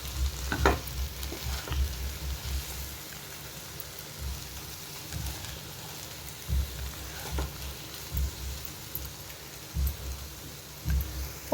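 Okra and tomato curry simmering in a pan, a steady soft sizzle with occasional stirring scrapes and low bumps, fairly close and alone.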